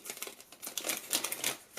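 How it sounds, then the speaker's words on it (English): Crinkly rustling of a black plastic bag with a void label, handled and torn open, with rapid close crackles and no talking. "A glorified plastic bag, a black bag as well with a void label"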